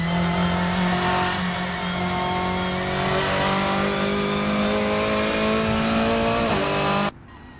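A Volkswagen Scirocco Silhouette race car in Assetto Corsa holds a loud, steady high-rev engine note with slight pitch shifts as it drives on, then the sound cuts off abruptly near the end.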